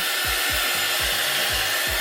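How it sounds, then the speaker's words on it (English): A heat gun blows steadily at close range, drying paint on a DIY wall decoration, with a dense continuous roar and a regular low thumping pulse running underneath. "this is what the heat gun's for"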